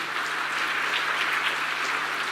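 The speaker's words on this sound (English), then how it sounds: "Big round of applause for them." Audience applause for panel speakers at the IIMPACT 2013 panel, a steady dense wash of clapping that holds evenly throughout with a faint constant hum beneath.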